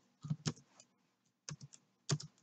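Soft, close bursts of keystrokes on a computer keyboard come in three quick clusters separated by quiet gaps as data is typed in.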